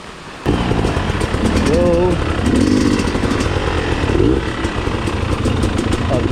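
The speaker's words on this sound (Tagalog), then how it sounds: "Ramdam na ramdam niya na yung power ng motor niya." A trail motorcycle engine revs hard on a muddy, rain-soaked trail, loud and close, with rising and falling throttle bursts while people talk over it.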